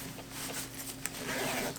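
A zipper slides along a pouch on an Away expandable carry-on suitcase, giving a soft, continuous rasping run of nearly two seconds at close range with no talking.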